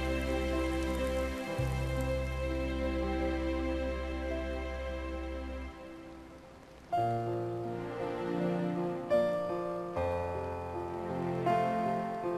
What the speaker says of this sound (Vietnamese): Cuối cùng trời cũng mưa rồi.